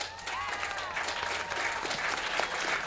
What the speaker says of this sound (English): How about a round of applause for all of our sponsors and our donors?